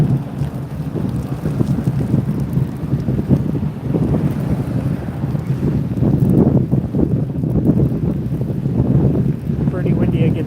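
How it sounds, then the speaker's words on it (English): Steady wind buffets the microphone on a high trail along the Platte River, a continuous low roaring rumble with gusty fluctuations throughout, loud and close with no voices. "Pretty windy again today."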